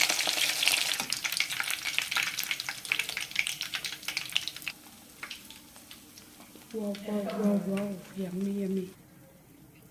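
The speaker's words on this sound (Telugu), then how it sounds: "చేప ముక్క వేగుతుంది" Fish pieces fry in hot oil for a spicy fish korma, crackling and spitting loudly up close, the sizzle easing off near the end while a voice briefly speaks.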